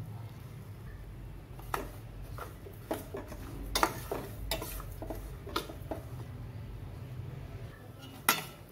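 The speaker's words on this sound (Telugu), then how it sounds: "ఇందులోని జీడిపప్పు ముక్కలు అలాగే రవ్వ వేసి వేయించుకోవాలి" Semolina and cashew pieces frying in ghee in a pan, heard as a low sizzle under scattered metallic clinks and scrapes of a spoon stirring against the pan, close by with no speech.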